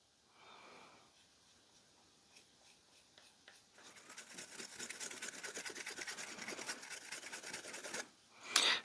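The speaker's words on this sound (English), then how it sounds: "We'll try burnishing this up." Fast, steady hand-rubbing strokes burnishing a leather axe sheath edge, starting softly and building into a continuous rasping back-and-forth close by, with no talking.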